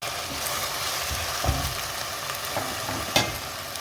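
Chicken pieces with onion and spices sizzle steadily in a hot pan, a constant close frying hiss with occasional stirring scrapes and clicks.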